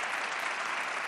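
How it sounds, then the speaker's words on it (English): Brief burst of steady audience applause at a cultural investment conference, dense even clapping from a large seated crowd honoring the speakers. "please give a big round of applause to our speakers"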